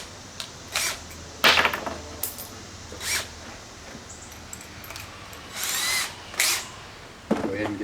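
A power drill bores a hole through a plate while building a car stereo test bench, running in several short bursts of whining spin with pauses between them.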